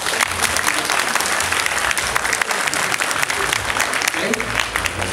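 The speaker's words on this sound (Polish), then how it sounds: "Wielkie brawa." Loud, steady applause from a TV game show studio audience on Familiada fills the whole stretch, dense clapping without pause.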